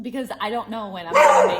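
A dog barks once, loudly and close by, at the end of a stretch of indoor talk from a woman.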